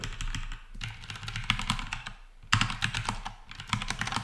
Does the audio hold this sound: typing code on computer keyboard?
yes